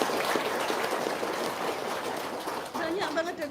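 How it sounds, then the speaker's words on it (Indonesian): An audience applauds after a woman gives thanks for a child's recovery, a continuous fizzing wash of clapping that thins toward the end as a voice begins speaking over it. "Tepuk tangan dong."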